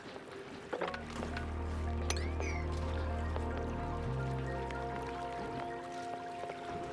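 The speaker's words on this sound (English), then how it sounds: "That sound was the sound of research being complete" A research-complete chime from the video game Oxygen Not Included plays over steady low machinery hum and scattered drips, a bright tone rising in the middle before the hum drops slightly; no one speaks.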